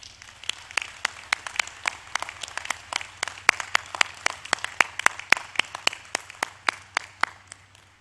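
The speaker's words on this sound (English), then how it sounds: "Let's recognize them with a round of applause." Scattered, crisp handclaps from a commencement audience at a university business school graduation, sounding close and steady for about eight seconds over a low background hum, with no talk.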